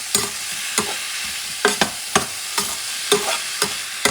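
Chunks of pumpkin and potatoes are stirred in a pot for Puerto Rican stewed peas, with about eight distinct scraping strokes at an uneven pace over a quiet background and no talk.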